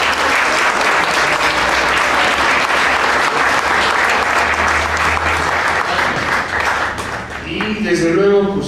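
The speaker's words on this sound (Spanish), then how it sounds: "Lo recibimos con una aplauso" Sustained applause from a crowd at a political forum on a draft constitution for Mexico City, dense and loud, clapping steadily throughout before tapering slightly near the end as a voice begins.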